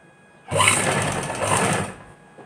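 A sewing machine stitching a suit sleeve runs in one quick, buzzing burst of about a second and a half, close and loud, with a soft lull before and after.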